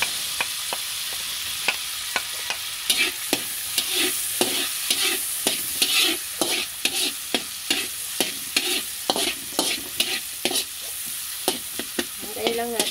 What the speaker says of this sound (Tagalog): So, yun guys, ilalagay ko na po ang sibuyas.